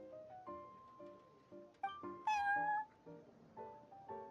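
Cat meows in Genshin Impact, set at the Cat's Tail tavern: a string of short, plaintive game meows with a longer, louder rising cry near the middle, over faint background music.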